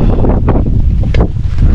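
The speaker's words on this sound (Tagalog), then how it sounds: "ang lakas ng hangin" Strong wind at a hillside campsite buffets the microphone in loud, rumbling gusts, a roaring low-frequency blast throughout the short moment.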